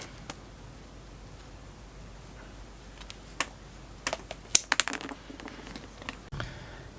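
A rusty knife cutting plastic for a mobile home plumbing build, sparse at first, then a cluster of close, sharp scraping clicks and snaps in the later half against a quiet background.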